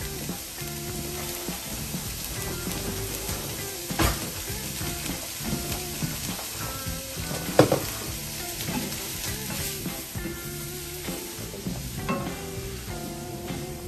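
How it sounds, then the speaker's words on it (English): Peppers and onions sauté in butter in a pan, a steady close sizzle running throughout, broken by a few sharp clanks and scrapes as the vegetables are stirred and tossed. "as it starts to saute, you want to make sure you move that around in that pan"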